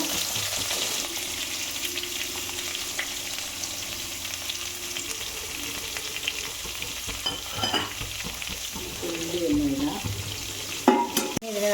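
Chopped onion and curry leaves sizzle in a hot pan with mustard seeds, a continuous frying crackle broken by occasional stirring scrapes and a clank of utensils near the end.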